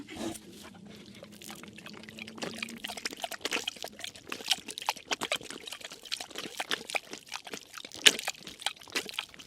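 Water is poured for a dog at a stealth campsite, a soft, uneven trickling and splashing that runs steadily and faintly for several seconds, up close with no voices.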